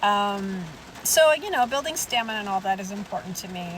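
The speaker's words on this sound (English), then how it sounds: "pardon the rain" Rain falls steadily outdoors as a soft background patter, heard faintly beneath someone speaking close to the microphone throughout.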